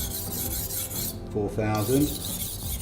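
A steel knife blade rubbed back and forth on a 4000 grit whetstone during sharpening, giving a steady close rasping scrape with a brief pause and a voice speaking in the middle.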